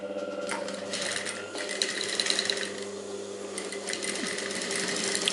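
A sewing machine runs steadily as it stitches a cord down onto a strip of fabric on a high-neck blouse, using thread matched to the cord, with a close, continuous mechanical whir and light ticking throughout.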